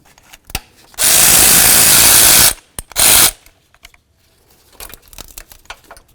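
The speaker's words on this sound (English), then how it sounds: "Now the next thing we're going to do is remove this bolt right here." A ratchet removes a bolt while replacing the alternator on a 1998-2002 Honda Accord: a loud, close burst of rapid clicking lasts about a second and a half, then after a pause a shorter burst follows, with faint handling noises around it.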